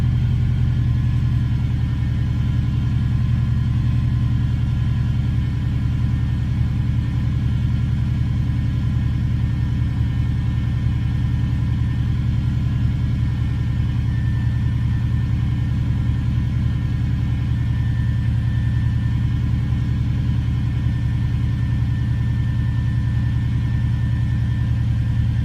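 A 2002–2007 Subaru WRX with an EJ20 engine idles after a cold start, a steady low rumbling drone holding even and close for the whole stretch with no talk.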